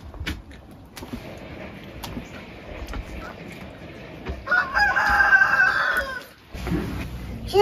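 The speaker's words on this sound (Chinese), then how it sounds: "公鸡， 公鸡， 哦哦啊！" A rooster on a rural family farm crows once midway through, a loud drawn-out call rising over low household murmur and background noise.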